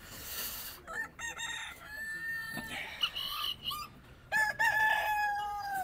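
Sussex and Australorp chickens at a farm, clucking and crowing loudly and nearby in overlapping calls, with no talking.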